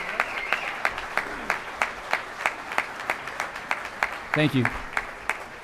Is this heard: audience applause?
yes